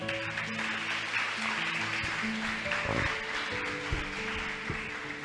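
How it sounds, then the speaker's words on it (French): An audience at a Christian gathering claps in a steady, dense patter of applause that holds at an even level throughout, with sustained keyboard tones underneath. "On applaudit frère comme intervention."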